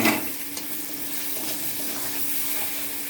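Spiced masala of salt, turmeric, chili powder, ginger paste, green chili and tomato sizzling steadily in a pan with soft stirring scrapes, a close, continuous fry with no talking.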